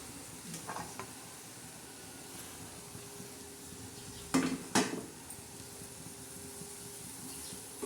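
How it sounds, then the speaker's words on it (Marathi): Dill greens with moong dal frying in a pan, a low steady sizzle broken by a few clattering scrapes of a spoon against the metal, close by and with no talking. "आता मस्त आपण हलवून घेणार आहोत"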